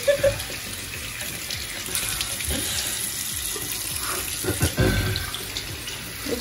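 Water runs steadily from a tap into a sink while someone washes their face, with a continuous close gush and occasional splashes and knocks.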